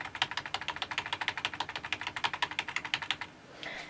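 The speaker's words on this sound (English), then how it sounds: "if I just mash one of the buttons" One key on a Razer Deathstalker Ultimate keyboard hammered rapidly, giving about thirty evenly spaced soft, close clicks in a fast steady rhythm, then a short hiss at the end.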